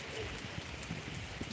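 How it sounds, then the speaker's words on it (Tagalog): Heavy rain falls during a storm in a steady, dense hiss with scattered drops pattering on surfaces. It is faint and continuous, with no speech. "Malakas pa yung ulan, ah."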